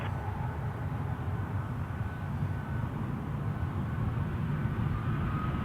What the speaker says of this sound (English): WestJet 421 on a swoop livery, headed to Edmonton, 737-800